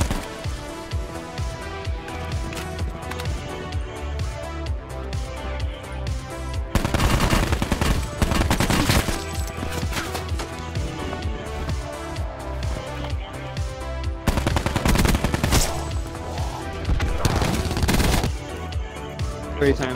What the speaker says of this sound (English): That's where they started shooting me.